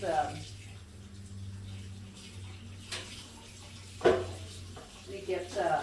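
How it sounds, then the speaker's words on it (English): Hands being washed under a running kitchen tap, a soft water flow with splashes and a sharp burst midway, while a person talks quietly. "Let me wash my hands."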